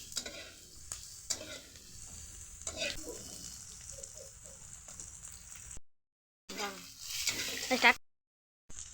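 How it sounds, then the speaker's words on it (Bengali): Ginger, garlic and onion fry together in a home kitchen pan, with soft hissing broken by scraping stirs, short pauses and louder sizzling bursts toward the end. "এই দেখুন আমাদের আদা, রসুন আর পেঁয়াজ একসাথে ভাজা হয়ে গেছে।"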